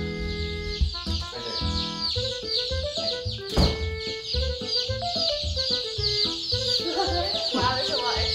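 A crowd of baby chicks, part of a batch of about fifty delivered by mail, chirps continuously in shrill overlapping peeps, close and lively, with a brief burst of rustling noise partway through.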